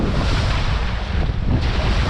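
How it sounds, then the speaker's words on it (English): Steady wind buffets a microphone out on the water during a smallmouth bass fishing trip, a light three-mile-an-hour breeze stirring small waves, heard as continuous broadband rushing with low rumble and no voices. "3-mile-an-hour wind, creating some waves here."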